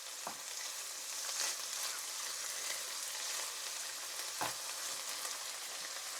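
Leeks and bacon sizzle gently in a pan for soup, a soft, steady frying hiss with a couple of faint stirring knocks and no voices.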